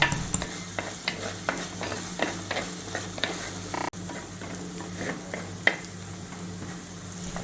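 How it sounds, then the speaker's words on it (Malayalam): Sliced onions sautéing in a pan for a Kerala-style dal curry: a steady sizzle under rhythmic, close spatula strokes that scrape the pan. "ഇപ്പം നമ്മുടെ സവാളയൊക്കെ നന്നായിട്ടൊന്ന് വാടി വരുന്നുണ്ട്. കുറച്ച് നേരം കൂടി നമുക്കൊന്ന് വഴറ്റി കൊടുക്കാം."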